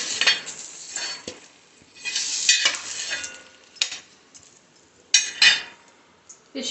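Fish fries in a pan, both sides cooked, with a soft sizzle broken by several sharp scraping and clinking bursts as the pieces are turned and moved.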